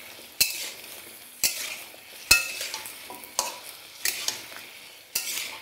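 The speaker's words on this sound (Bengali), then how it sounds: "এবার ফ্লেমটাকে মিডিয়াম করে এটাকে ভালো করে আপনারা ভাজতে থাকুন।" Cut potatoes fry in oil over a medium flame, seasoned with five-spice and dried chillies. A steady sizzle runs throughout, broken by about six sharp spatula knocks against the pan, each followed by a scraping stir.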